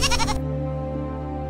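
A goat gives a single short, wavering bleat, close and clear, followed by a steady low droning hum that carries on after the call ends.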